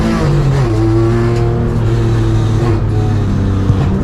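Aaron Thompson's Magna hillclimb car heard from onboard, its engine loud and close as it pulls through rising and shifting revs with no break across the whole run.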